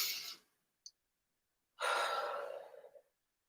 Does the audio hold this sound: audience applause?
no